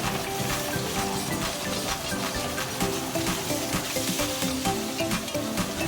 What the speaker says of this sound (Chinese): 把鱼的两面煎至金黄酥香